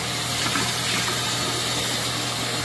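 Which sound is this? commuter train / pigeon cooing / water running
water running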